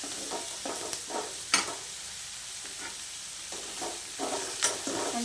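Okra, or lady's finger, is stirred and fried in a pan for a curry: a steady soft sizzle broken by sharp spatula scrapes and clacks at irregular intervals, close and with no voices.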